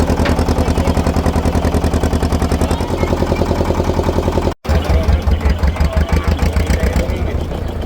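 A small motor boat engine running in the Sundarbans, a loud close rhythmic chugging drone that cuts out briefly and restarts, with voices faintly audible over it.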